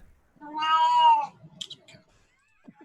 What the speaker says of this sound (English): There's that cat.